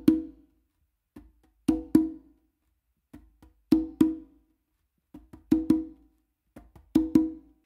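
Conga strokes in a repeating pattern: soft fingertip ghost-note bass taps in the middle of the drum alternating with ringing open tones from each hand, in spaced clusters with silent gaps, played alone and close.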